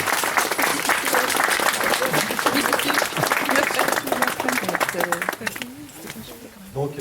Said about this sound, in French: Je vous demande d'applaudir vivement la chorale.